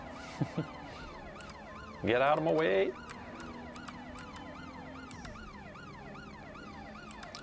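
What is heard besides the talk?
police car siren in a video game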